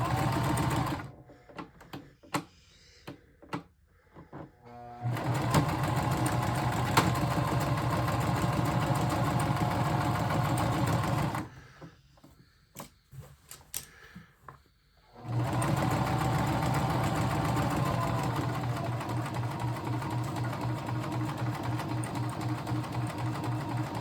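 A sewing machine runs in long steady bursts of fast even stitching, loud and close. Short pauses with handling clicks and rustles separate the runs, and no voices are heard.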